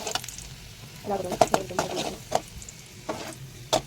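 Garlic fries in oil in a pan while being stirred for murungai keerai (drumstick leaf) thokku, with soft sizzling under irregular scraping and stirring strokes.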